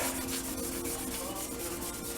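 Brass being sanded by hand with fine abrasive paper, a steady close scratchy rubbing with rhythmic back-and-forth strokes, continuous and alone.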